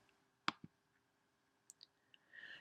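Computer mouse clicks while working in Microsoft Excel on a Mac, two sharp close clicks in quick succession followed by a few fainter small clicks, in a quiet room.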